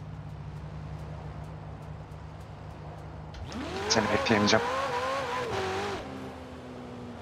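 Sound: Ferrari Portofino car engine in video game Forza Horizon 4

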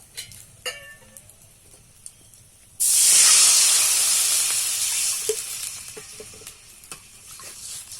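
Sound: water poured into hot oil tempering, sizzling

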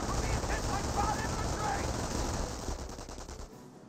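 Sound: MG42 machine gun firing in Company of Heroes video game

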